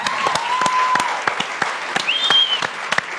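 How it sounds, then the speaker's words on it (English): Studio audience applause at a televised talk show, a dense burst of clapping hands that swells and carries on for several seconds, loud and close. "That's a round of applause."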